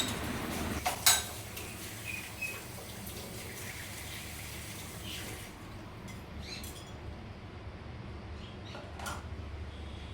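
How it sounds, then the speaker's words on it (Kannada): Dishes and pots are being washed by hand in a home kitchen, with a few sharp metallic clinks early on over a quiet bed of trickling water and soft handling noises. "ಇವಾಗ ನೋಡಿ ಪಾತ್ರೆ ಎಲ್ಲ ತೊಳಿತಾ ಕೂತ್ಕೊಂಡಿದ್ದೇನೆ"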